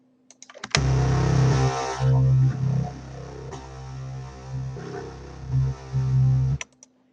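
Bass synthesizer line programmed in Reason, a sustained, buzzy low-register pattern with several held notes that swell and drop, heard alone and fairly loud.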